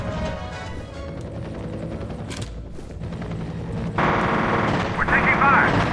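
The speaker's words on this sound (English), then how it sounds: "We're taking fire!" Automatic gunfire crackles in sustained bursts in the shooter game F.E.A.R., mixed with loud combat effects and voices shouting over it.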